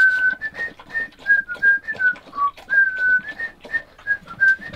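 A person whistles a French song, a clear, close melody of short and held notes over about five seconds, with faint room noise beneath.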